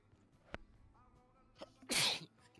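A single loud sneeze bursts out near the mic, set against quiet background noise and a few faint clicks during casual play of a video game with friends.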